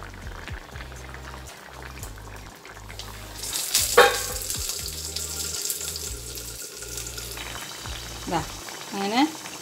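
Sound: sardines cooking in a pan for fish avial

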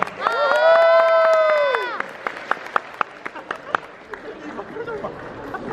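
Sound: wedding guests applauding

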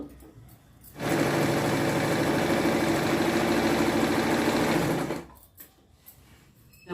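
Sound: sewing machine stitching patiala pant fabric

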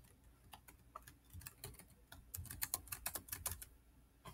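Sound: computer keyboard typing, pressing shift backslash

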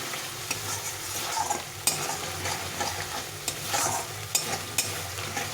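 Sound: spice paste being sautéed and stirred in oil

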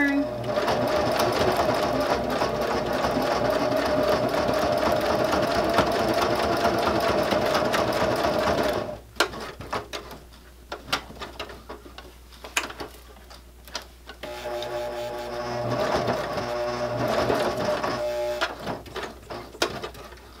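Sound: sewing machine stitching a bag handle cover

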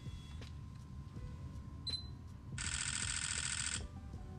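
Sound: Sony camera continuous high-speed shooting shutter burst

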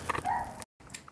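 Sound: dog barking loudly

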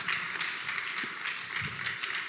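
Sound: conference audience applause

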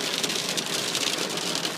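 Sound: heavy hail hitting a car

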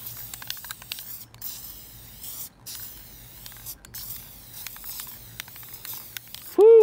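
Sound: spraying glue from a spray can onto paper strips

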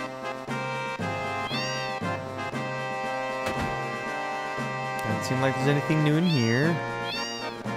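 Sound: cat meowing

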